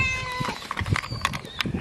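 Cat meowing at a stone-wall house in Jeju, a close, loud meow amid bright chirping and overlapping noise.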